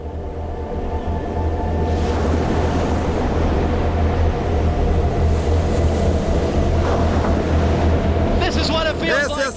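Storm surge from a hurricane, with seas about 1.8 m high pushing water inland, makes a loud, steady roar of surf and wind that runs through the whole stretch. Buffeting on the microphone adds to the noise.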